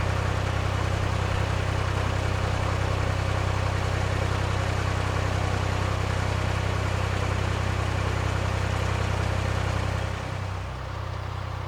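A narrowboat's inboard engine runs steadily while cruising on a canal, a loud, close, constant low throb with a hum that holds throughout and eases slightly near the end, with no talk.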